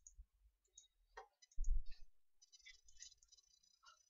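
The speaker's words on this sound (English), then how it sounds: "now you have to click on this icon" A computer mouse clicked a few times, giving faint, sparse, close clicks and ticks spread across a few seconds in an otherwise quiet room.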